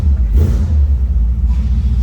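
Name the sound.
1957 Ford Ranchero 292 engine running, throaty rumble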